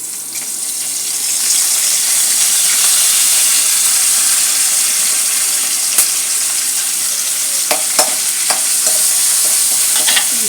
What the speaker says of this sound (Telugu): పోపు వేగిన తర్వాత మనం అల్లం పచ్చిమిర్చి పేస్టు, కరివేపాకు కూడా ఒక్కసారి వేయించేసుకోవాలన్నమాట.